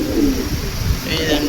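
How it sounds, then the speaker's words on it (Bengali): A ring-eyed pigeon, a male in a silver-colored collection, gives a low, brief coo at close range, with background chatter around it. "রিং চোখের কবুতর।"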